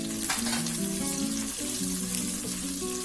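Onions and green chillies fry in a pan for a chicken curry, a soft continuous sizzle under louder tonal background music that plays throughout.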